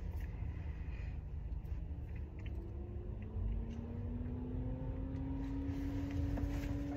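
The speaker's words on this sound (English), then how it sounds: "My car sound horrible." A car with a bad-sounding engine drones faintly and steadily from inside the vehicle, its low whine rising gradually in pitch as it accelerates over a dull road rumble.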